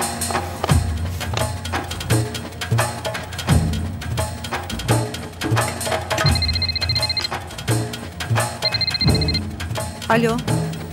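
A telephone rings on an outgoing call, two short bursts of ringing tone sounding over loud, rhythmic background music in a drama scene.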